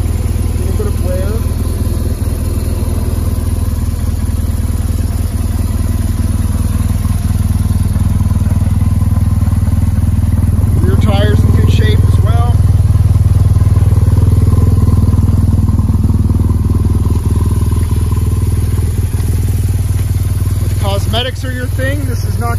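A 2010 BMW R1200GSA motorcycle with 74,700 miles idles steadily and close by, a low boxer-engine drone running evenly throughout with faint clatter and a couple of brief chirps over it.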